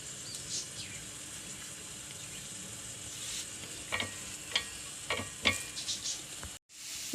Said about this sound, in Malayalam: കുറച്ച് എണ്ണ ഒഴിക്കണം. നാളികേരം ഇടുന്നു. സാമ്പാറിലേക്ക് വറക്കാനുള്ളതാണ്.